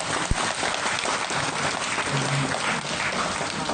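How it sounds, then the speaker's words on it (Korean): A crowd at a Buddhist Dharma talk claps in a dense, steady burst of applause that lasts the whole moment, with a brief low thump near the start. "밥 얘기 때문에 박수를 받았습니다"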